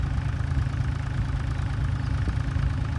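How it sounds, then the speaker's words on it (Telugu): Steady low drone of two water pump engines idling at a construction site, continuous and even with a faint vibrating hum throughout. "ప్రస్తుతానికి వచ్చేసి రెండు ఇంజన్లు అయితే ఆన్లు అయితే ఉన్నాయి"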